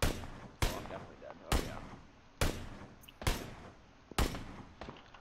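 Six sharp gunshots in a video game, fired at a steady pace roughly a second apart, each a loud crack trailing off into a short echo.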